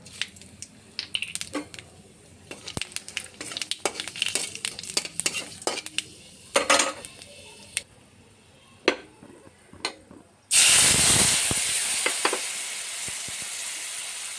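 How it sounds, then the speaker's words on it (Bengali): Dry red chillies, bay leaf and panch phoron hitting hot oil: scattered spoon taps and clinks, then a sudden loud, hissing sizzle that bursts in and holds steady to the end. "2টি শুকনো লঙ্কা, তেজপাতা, পাঁচফোড়ন।"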